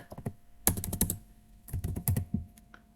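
A computer keyboard is typed on close by in short clustered bursts of clicky keystrokes with brief pauses between them.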